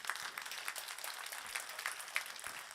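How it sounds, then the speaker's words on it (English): Quiet, distant applause from a conference audience, soft scattered clapping heard faintly and briefly. "I would like to give a very big applause to you"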